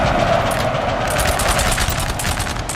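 Massed musket volleys crackle continuously through a Napoleon: Total War multiplayer battle, a dense, loud, rolling fusillade of overlapping shots that carries on without a break and without talk.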